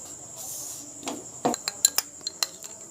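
A metal spoon clinks and scrapes against a bowl while ghee is mixed into besan for besan ladoo, a few sharp taps standing out over a faint steady background.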